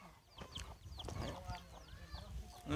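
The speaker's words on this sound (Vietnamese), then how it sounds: "Gà của họ đây." Chickens around a rural village house in a mountain commune of Điện Biên cluck and chirp in short scattered bursts, faint and outdoors against soft background noise.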